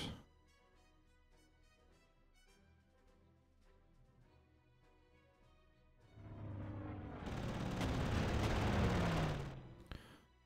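Gunfire shooting down enemy bombers in the Panzer Corps war game: quiet game music gives way to a loud, dense burst of rapid shots and rumbling blasts lasting several seconds, then cutting off.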